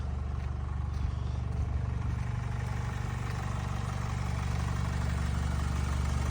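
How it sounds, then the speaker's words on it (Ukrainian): The engine of a 2012 Honda CR-V with 225,000 km on it idles with a steady, even low hum and a faint clatter, close by and with no talking. "мотор присутній."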